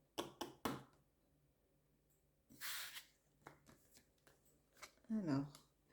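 Tarot cards are shuffled in quick, soft riffling bursts, several short flurries spread across a quiet room, with a voice briefly heard near the end.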